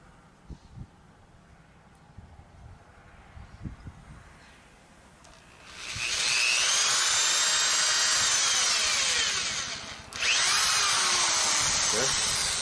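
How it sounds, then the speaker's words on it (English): A power drill bores holes for long screws, first quiet with soft handling noises, then a loud sustained high whine that dips briefly before resuming. "Make sure you drill it deep enough, because these are some long screws."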